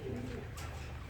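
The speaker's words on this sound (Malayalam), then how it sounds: "വെള്ള പ്രാക്കളുണ്ട് കേട്ടോ വെള്ള പ്രാക്കളുണ്ട് പ്രാവുകൾ" A white pigeon gives a brief, low, soft coo against a faint background murmur at an agricultural farm in Ambalavayal, Wayanad.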